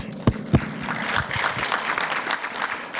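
An audience at a trade and investment conference applauds, with a couple of sharp claps at the start before the applause settles into steady, dense clapping.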